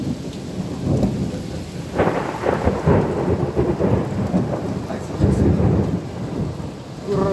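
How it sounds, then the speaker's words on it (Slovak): Thunder rumbles repeatedly through a heavy thunderstorm, with steady rain pouring and dripping close by throughout, loud and continuous with no talk. "Kurva, jebú tie hromy,"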